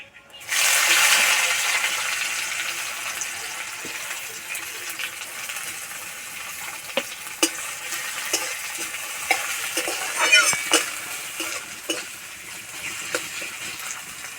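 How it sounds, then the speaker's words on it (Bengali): Onion and garlic sizzle loudly in hot oil in a pan, with a steady bright frying hiss, irregular stirring scrapes and clinks throughout, close up with no talking. "এবার দেবো পেঁয়াজ আর রসুন"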